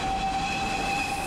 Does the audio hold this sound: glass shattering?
no